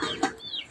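Chickens in a village yard cluck and squawk at close range in a short, busy burst, with no one talking over them.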